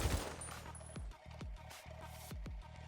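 Gunfire in the video game GTA roleplay, a rapid series of sharp sharp shots in quick bursts, loud and close, without talk.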